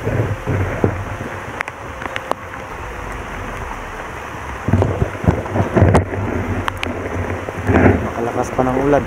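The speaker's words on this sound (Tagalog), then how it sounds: "Makalakas pa ng ulan" Heavy rain falls on a mountain with a steady, dense hiss, while gusts and rumbling swells rise and fall beneath it and faint sharp knocks break through now and then.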